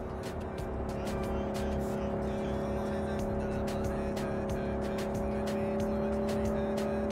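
Car driven in Cyberpunk 2077, a steady engine drone with constant tonal hum and faint tire noise running throughout, loud and continuous without speech.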